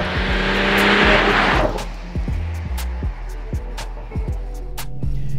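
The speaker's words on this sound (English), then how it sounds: "I'm starting to get used to the exhaust note." A 2019 Mercedes-AMG E 53 Cabriolet in Sport Plus mode gives a loud, close exhaust note, with a sharp opening burst of engine roar that settles into a steady drone punctuated by crackles and short pops.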